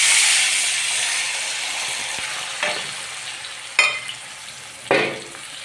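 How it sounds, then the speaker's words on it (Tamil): Tamarind solution poured into a hot pan for puli thokku sets off a loud, broad sizzling hiss that slowly fades, with a few sharper spitting bursts near the end. "இப்போ நம்ம கலக்கி வச்சுருந்த இந்த புளியை வந்து கரைசலை வந்து ஊற்றிக்கலாம்."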